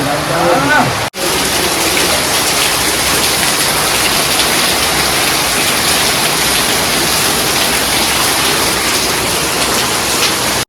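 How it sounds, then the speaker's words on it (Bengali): Heavy monsoon rain pours down on a flooded village street, a loud, dense and unbroken roar of falling water with a brief gap near the start. "কি বর্ষা"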